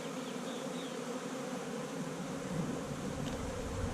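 Honey bees hum steadily inside an open hive during a queen cage removal, a dense continuous buzz from many insects close by, without speech.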